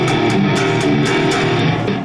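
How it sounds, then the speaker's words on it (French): Electric guitar played through a Headrush pedalboard on its clean base channel, a loud, sustained chord passage with steady repeated strums and no voices. "Donc ce que vous avez entendu, c'est mon canal de base"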